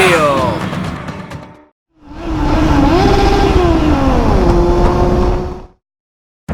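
A 2020 BMW S1000RR superbike revs at full throttle on a racing circuit, one short loud howl, a brief silence, then a longer screaming pull whose pitch climbs and falls before cutting off.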